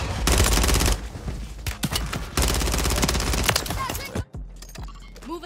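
Rapid gunfire from Call of Duty: Warzone 3, loud bursts of automatic weapons and shots stacked densely, ending in a sharp drop to quieter game sounds, with a brief radio-style voice line over the action.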